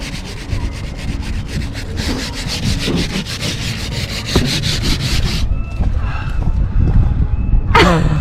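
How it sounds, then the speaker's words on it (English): Sanding a boat deck during a cockpit refit: steady, rhythmic rubbing strokes of sandpaper on the deck, loud and close, running continuously before stopping near the end, leaving quieter ambient sounds with a brief burst at the close. "Jay is sanding the deck right now."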